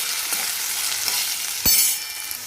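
Potato pieces for sabudana khichdi fry in a pan with a steady close sizzle, broken by one sharp stirring clatter partway through; no voices.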